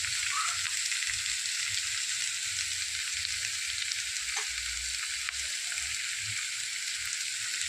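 Green corn chevdo, a Gujarati snack, being stirred and frying in a pan, giving a steady close hiss and sizzle with faint occasional scrapes and no talking.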